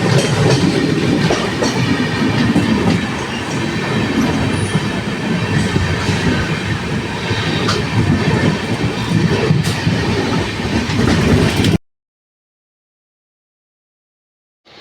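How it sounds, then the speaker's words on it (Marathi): A train passes through a station at night, giving a loud, steady rumble and clatter of wheels on rails with occasional squeals. It runs continuously for about twelve seconds, then stops abruptly. "समोर कुठली तरी ट्रेन येते"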